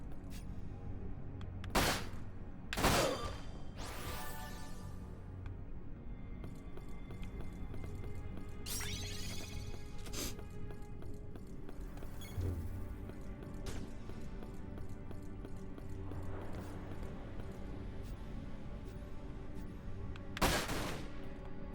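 Enemy gunfire in the video game Dirge of Cerberus: Final Fantasy VII, a few sharp loud shots early and late, with scattered lighter pops over a constant game hum.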